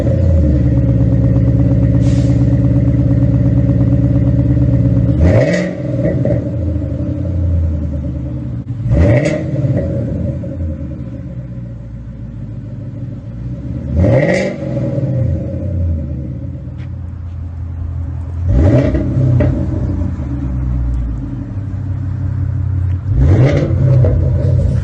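Car exhaust fitted with an X pipe, a deep rumbling idle broken by five sharp revs spaced a few seconds apart, each rising and falling back, close and loud with no talking.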